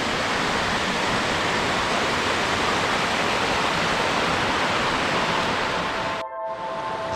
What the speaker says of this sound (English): We look down at the river and across to the other side.